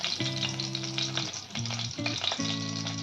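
Vegetables with garlic, chilli and tomato sizzle steadily in butter in a pan for paneer ghotala, a continuous close frying hiss with stirring, no talk.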